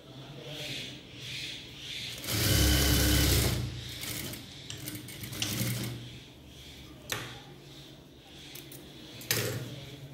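A sewing machine stitches a fabric edge closed for a skirt and blouse, with a loud, fast mechanical whirr in one burst and shorter stop-start runs of needle clatter nearby.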